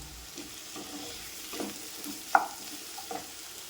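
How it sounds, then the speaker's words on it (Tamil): Crushed garlic and tomatoes sauté in a pan with a quiet, steady sizzle, while a few soft stirring scrapes and one sharp clink break through. "இது கூடவே கட் பண்ணி வச்சுருக்க தக்காளி 2 போட்டுக்கிறேன். போட்டு நல்லா வதக்குவோம்."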